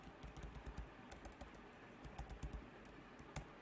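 Code is typed on a computer keyboard as a quick run of close, crisp key clicks in irregular bursts, fairly quiet overall, with no speech.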